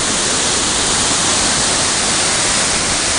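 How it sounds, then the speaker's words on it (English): Kouang Si waterfall in Laos roars from close by, a loud, unbroken wash of rushing water with no pauses or other sounds. "So here I am at the top of the waterfall,"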